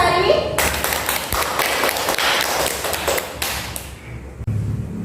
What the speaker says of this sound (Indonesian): Berikan tepuk tangan untuk Almi Ratnasari